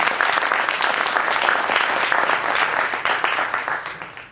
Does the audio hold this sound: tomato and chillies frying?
no